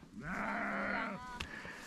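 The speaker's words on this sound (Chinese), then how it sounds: "这个声音啊，就是羊妈妈也喊那个娃回家了。" A ewe on a Xinjiang mountain hillside calls out to her two lambs. The single sustained bleat is loud and close with a wavering tremolo, and a shorter faint bleat follows it.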